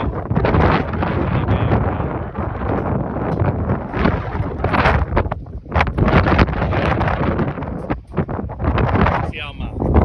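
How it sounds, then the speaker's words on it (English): Strong wind gusting across a building rooftop during package unit maintenance, roaring and buffeting the microphone in uneven surges while someone talks over it. "Windy day."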